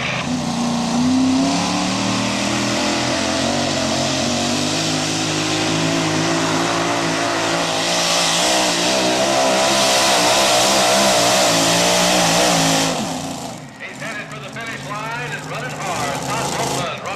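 A roughly 2,000-horsepower mini rod pulling tractor, about 2,000 pounds, roars loud and unbroken at a truck and tractor pull, straining for many seconds before the engine briefly dips, while an announcer talks over it.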